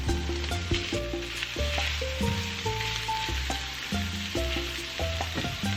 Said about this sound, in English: stir fry these for about 3 to 4 minutes. After 3 minutes, go in with your shrimp